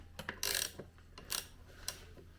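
Crankcase splitter being tightened on a Honda XR70 engine: a few sharp metallic clicks and bursts of ratcheting close up, separated by short pauses, with no voices.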